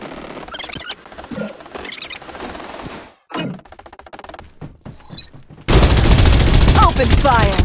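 Gunfire in the video game Farlight 84 comes in short bursts amid game sounds, building to a loud sustained stretch of rapid fire near the end.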